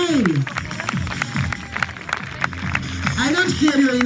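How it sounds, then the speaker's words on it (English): A crowd applauds at a show announcing a best male winner, crisp claps scattered through loud voices and shouting that dominate the mix. "Big applause for best male."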